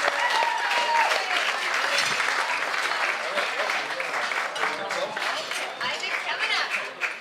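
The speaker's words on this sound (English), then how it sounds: "another round of applause for Kingsley" A round of applause for Kingsley during wedding-style speeches, dense continuous clapping from a crowd, loud and steady throughout with scattered voices mixed in.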